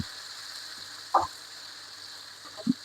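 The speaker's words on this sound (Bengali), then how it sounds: "রসুন পেঁয়াজ দেবো, দিয়ে একটু ভেজে বাগার দিয়ে দেবো" Garlic and onion frying in oil for a lentil dal tempering, a soft continuous sizzle with two brief louder pops or stirring clinks, close but quiet, with no speech.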